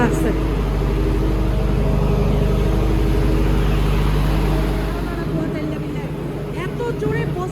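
A generator runs steadily through a power cut in a Saudi Arabian home, a loud continuous low engine drone filling the scene, easing slightly near the end while people talk over it.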